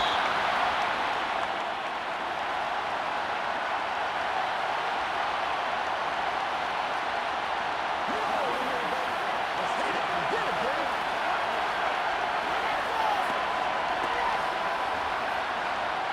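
Virtual stadium crowd noise in Madden 23 during a simulated Tampa Bay Buccaneers vs New Orleans Saints game, a broad steady roar that swells slightly midway, running beneath continuous play-by-play commentary.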